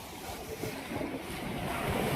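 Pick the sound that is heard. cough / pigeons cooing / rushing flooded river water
rushing flooded river water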